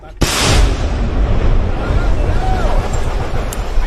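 A sharp, loud explosive blast bursts out suddenly, followed by a long rumbling roar and debris noise that slowly fades, with faint voices in the background.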